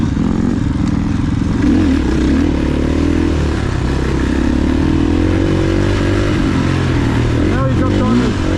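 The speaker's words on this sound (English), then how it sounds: "Felipe lost his silencer to his YZ. That's why it sounded so gnarly." A Yamaha YZ dirt bike running without its silencer blares loud and raw close by, its harsh engine note rising and falling through revs for several seconds, with voices faintly underneath.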